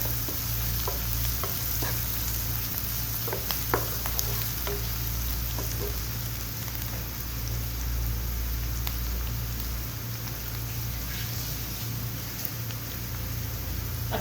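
Egg and potato masala sizzles steadily in a pan on a medium flame, a continuous close frying hiss with occasional soft stirring clicks and a low background hum, with no voices.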